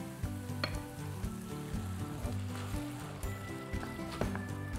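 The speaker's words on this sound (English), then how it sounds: "So we're gonna add some vegan red wine." Vegan red wine is poured into a pan of cooking tomato sauce, which keeps up a steady, dense sizzle and bubbling hiss. A few faint clicks rise above it, and no one speaks.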